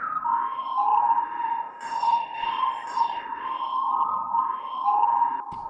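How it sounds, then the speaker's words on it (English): A sustained synth pad drones steadily around one tone, smeared with swirling, echoing effects from the Rift plugin and shimmering high overtones, with no voices throughout. "And it's just like a pad sound."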